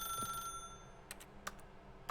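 An old-style telephone ringing inside the video game The Stanley Parable, a few short bright rings spaced apart over a faint background hum, fairly quiet.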